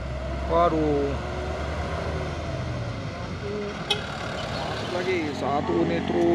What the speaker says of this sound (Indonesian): Lagi satu nih truk trailer Siwa Surya VAW